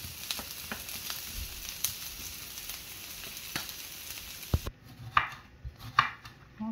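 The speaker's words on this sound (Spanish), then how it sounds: "Vamos a freír la cebolla y el ajo. Lo vamos a dejar que se fría muy bien." Chopped onion and garlic fry in a hot pan, giving a steady soft sizzle with scattered clicks and taps of a utensil, then a few louder clanks near the end.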